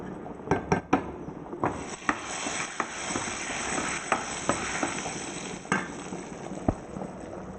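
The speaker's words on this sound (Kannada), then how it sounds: "ಒಗ್ಗರಣೆ ಪಾಡ್ದು ಬೀಜದ ಕಜಿ" Tempering spluttering in a pan, a continuous close sizzle punctuated by sharp metal clinks and spoon scrapes against the pan, with no speech.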